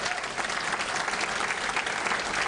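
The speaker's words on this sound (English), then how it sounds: "Please give them a round of applause." An audience at a Rotary youth awards event in Delta, BC applauds the event committee with sustained, even clapping from a crowd indoors.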